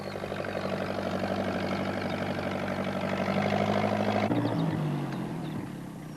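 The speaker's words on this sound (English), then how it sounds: "And off she went for the tractor." A tractor engine runs steadily on a farm, a loud, droning idle with harmonic hum that shifts pitch slightly near the end, with no talking.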